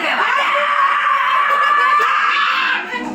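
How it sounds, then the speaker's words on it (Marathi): Children scream and shout excitedly at a birthday celebration, a loud, sustained high-pitched chorus of overlapping voices with bits of laughter, easing slightly at the very end. "त्यांचा आरडाओरडा तर संपायचं नाव नव्हतं घेत"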